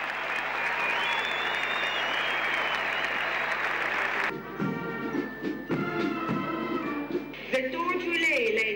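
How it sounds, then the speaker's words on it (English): Olympic torch ceremony crowd in Athens cheering and clapping as the flame is raised, a dense, loud wash of applause that abruptly gives way to a voice talking over music. "the crowd, who cheered as the flame was raised in the air after having to be relit"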